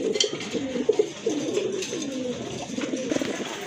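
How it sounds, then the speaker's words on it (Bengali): A pair of red Bombay pigeons coos in soft, rolling bursts, the low throaty calls repeating steadily and close by with faint background hiss. "এক জোড়া বোম্বাই কবুতর"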